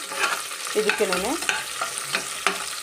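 Curry leaves dropped into a hot pan and sautéed for tomato rasam rice bath, giving a close, crackling fry with a few stirring scrapes across a short stretch; no voices.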